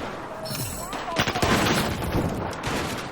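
Close-range automatic gunfire in Battlefield 4 Domination mode, rapid bursts with a dense cluster of shots in the middle. Background battle noise fills the scene, and someone talks over parts of it.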